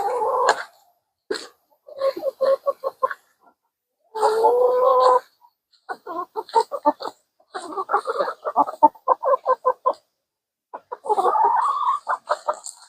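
Several hens in a coop during a snowstorm cluck and murmur at close range in short, repeated bursts with brief quiet gaps between them.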